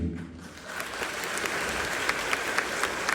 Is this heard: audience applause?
yes